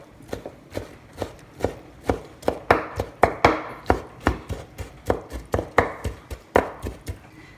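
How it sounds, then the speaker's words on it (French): A knife chopping bell peppers for a Moroccan salad, each stroke a crisp thud on a board, landing in a steady, fairly quick rhythm up close with no talking. "Là, j'ai presque fini de couper les poivrons."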